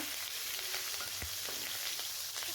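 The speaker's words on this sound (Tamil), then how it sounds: "இப்போ இது கூடயே 6 பச்சை மிளகாவை பாதியாக கட் பண்ணி போட்டுக்கோங்க" Halved green chillies and cumin fry in hot oil, giving a continuous dense crackling sizzle at even loudness, close by, with a few faint pops and light utensil taps.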